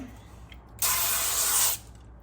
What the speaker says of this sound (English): I'm just going to take a little spray,